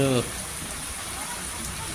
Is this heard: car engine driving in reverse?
no